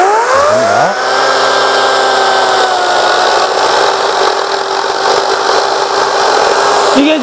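A 36V cordless chainsaw on its high setting cutting through wood, a loud continuous high-pitched motor whine that rises briefly at the start and then holds steadily under load for several seconds before easing off.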